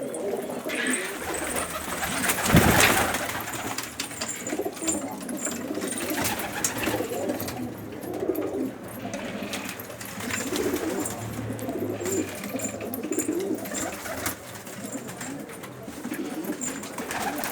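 Syrian homing pigeons kept in a loft coo continuously in a low, rolling murmur, close by, over a steady background hum without talk.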